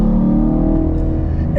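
A Chevrolet Camaro SS accelerating out of a right-hand bend, its engine loud and close with a steady low rumble that climbs gradually, heard alone without talk.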